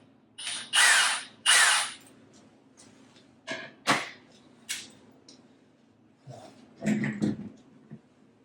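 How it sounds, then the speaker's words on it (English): A power drill with a long drill bit whirs in a few short bursts, two longer ones at first, then brief spurts and a rougher final burst, with pauses between. "Use that nice long drill bit we talked about."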